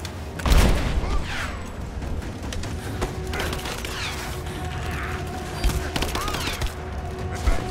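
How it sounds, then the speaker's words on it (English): Gunfire in the video game Rise of the Tomb Raider, bursts of shots and mechanical clatter over a steady rumble of game ambience, with a voice talking over parts of it. "Give me suppressing fire"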